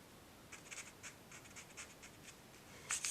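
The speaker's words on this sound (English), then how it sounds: "I'm going to take the top corner and fold it down to the bottom" Paper being folded by hand into an origami rabbit: a run of soft, close scratchy rustles and creasing strokes, ending in a louder, sharper crinkle.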